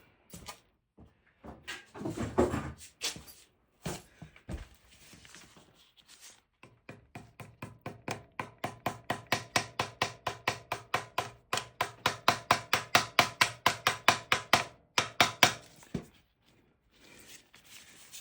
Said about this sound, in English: let's hammer it in.